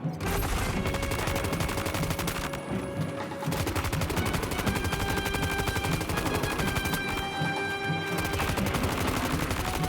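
Gunfire in the video game Death Stranding 2, a dense and loud run of shots over a full musical score, with brief pauses where the firing drops out.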